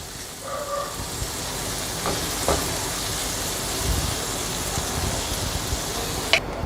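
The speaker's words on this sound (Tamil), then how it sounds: "இதை கொஞ்சம் எண்ணெய் லேசாக விட்டு இப்போ நம்ம வந்து ஃப்ரை பண்ணணும்" Paneer fries in a little oil over a medium flame, a steady, close broadband sizzle with a few faint clinks.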